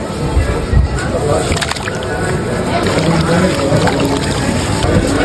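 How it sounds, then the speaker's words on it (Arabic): Potatoes being washed in water, with close sloshing and splashing under steady background noise. "هتنزل البطاطس في الميه تغسلها"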